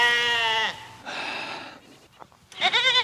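Sheep in a sunny field bleat loudly and close by, one long wavering cry at the start and another after a brief rustling pause.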